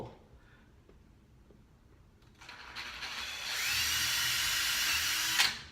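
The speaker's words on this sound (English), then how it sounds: "And then drill a little hole." A power drill bores a small pilot hole for a railing, starting with quiet handling noise, then spinning up into a loud, steady high-pitched whir that holds for a couple of seconds before cutting off.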